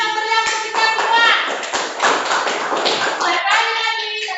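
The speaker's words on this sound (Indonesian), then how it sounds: "tepuk tangan yang meriah untuk kita semua" Children in an Indonesian classroom clap in scattered bursts while voices keep talking and calling out over the top, a busy mix of hand claps and chatter.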